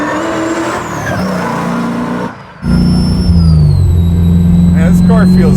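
A 1,000-horsepower supercharged 427 Chevy Chevelle SS restomod drones steadily on the road with a low hum that briefly drops away, then returns stronger under people talking.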